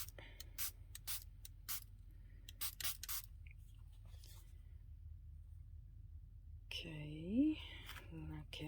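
Several short hissing bursts of a spray bottle spritzing liquid, likely over walnut stain, onto a rustic craft tag, spaced irregularly and fairly close, followed by a voice speaking near the end.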